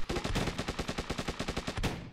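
Rapid gunfire bursts from a video game, a steady stream of loud, evenly spaced shots close together, ending with a heavier blast that fits an explosion, with no talking over it.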